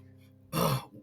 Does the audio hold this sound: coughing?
yes